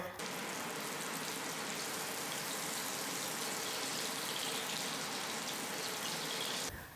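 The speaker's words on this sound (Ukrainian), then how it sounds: "Отправляємо на сковорідку, жаримо на пательню." Meatballs made with processed cheese and egg sizzle in a frying pan, a steady, even crackle and hiss of hot oil that holds constant throughout before cutting off abruptly.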